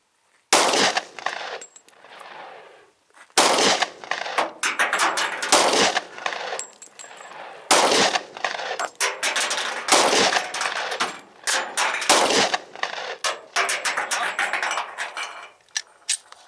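A Smith & Wesson M&P 45 M2.0 pistol fires 200-grain XTP hollow points at a range. Sharp, loud, close shots come in irregular bursts over about fifteen seconds, and each crack rings out briefly.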